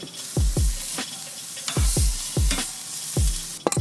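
Whitetail deer meat fries in a pan with a steady loud sizzle, broken by several deep thumps and clunks as pieces are flipped and moved, no voices.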